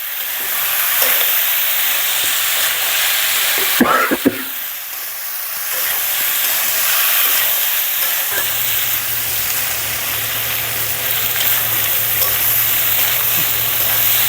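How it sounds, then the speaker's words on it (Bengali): Bitter gourd is stir-fried in oil with no water, giving a loud, continuous close-up sizzle and hiss, punctuated by scraping stirs and a sharp clatter around the middle, with a low steady hum joining later. "উস্ত থেকে এবার শুধু নাড়াচাড়া করতে হবে, একটু পানি দেওয়া যাবে না, শুধু নাড়াচাড়ার উপরে ভেজে ফেলতে হবে।"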